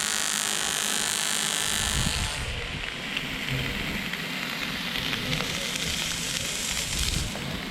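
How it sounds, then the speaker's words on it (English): Sausages sizzle and spit on a grill during a classic sausage sizzle in a workshop, a steady crackling hiss that stays close and fairly quiet throughout, with no talking. "Just do a classic sausage sizzle for once."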